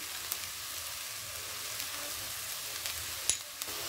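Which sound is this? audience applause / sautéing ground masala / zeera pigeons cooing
sautéing ground masala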